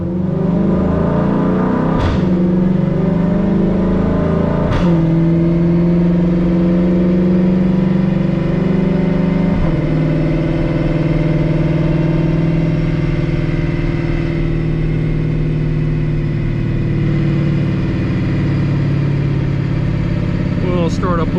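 A 2020 Shelby GT500 runs on a dyno, its engine holding a loud steady drone with a few sharp transient bursts. It is close and continuous for the whole stretch, and no one speaks.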